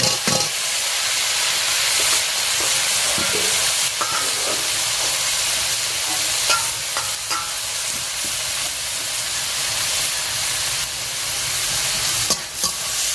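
Boiled bottle gourd goes into a hot pan with a five-spice tempering and sizzles steadily, with intermittent scraping and stirring clicks over a continuous frying hiss.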